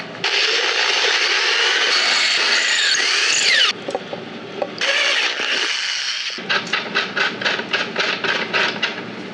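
A power drill with a cobalt bit bores through a Damascus steel ring, making a loud continuous high grinding whine that stops abruptly, resumes, then breaks into a rapid series of short bursts, with no talking.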